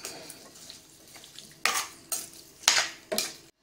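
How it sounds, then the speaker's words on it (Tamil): A spoon stirs pumpkin and red cowpea stew with cumin and curry leaves in a pan, four distinct scraping strokes in the last two seconds over a faint sizzle. "இப்போ நல்லா கலந்து விட்டுக்கலாம்"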